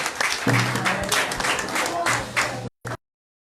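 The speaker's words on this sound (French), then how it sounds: "Applaudissez pour celles qui ont déjà retiré." A crowd at an outdoor community gathering in Bouaké applauds, with dense close clapping and some voices mixed in, running for under three seconds before cutting off abruptly.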